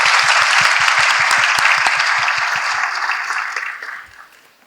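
Enthusiastic audience applause welcomes a lecturer to a concrete and cement materials lecture, a dense, loud wash of clapping that holds steady for several seconds and then fades away.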